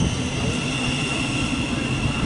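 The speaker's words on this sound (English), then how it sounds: "now arriving as the final train in this video, it would be the 1127 Thameslink service to Brighton from Bedford" Thameslink Class 700 unit 700-128 pulling into St Albans City station on the Midland Main Line, a steady close rumble and whine of the train filling the whole stretch without a break.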